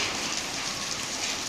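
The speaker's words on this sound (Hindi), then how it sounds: "बहुत ही शानदार ओले गिरते हैं" Steady, dense patter of rain and hail striking surfaces, a continuous hiss with hard, gritty hailstone impacts mixed in, fairly loud and unbroken.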